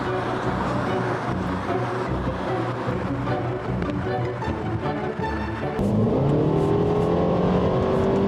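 A car revs and accelerates on a test drive, a loud steady engine roar that climbs sharply in pitch near the end as it speeds up.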